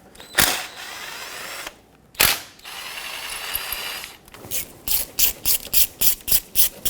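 A pneumatic impact tool removing valve cover bolts on a 2.4L Jeep Wrangler rattles in short bursts, then fires a rapid series of about ten quick, sharp clicks, loud and close, with no talking.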